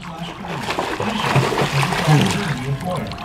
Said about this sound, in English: She's learning how to splash, guys.